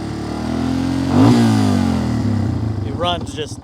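A Wolverine ATV engine hums steadily at idle, rises briefly with a throttle blip, then settles back; a voice speaks near the end over the running motor.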